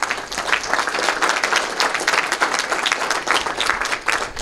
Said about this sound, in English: I would like an applause for him.